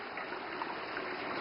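Tap water running while dishes are washed in a tiny house built inside a car, a steady, fairly quiet stream with no talking over it.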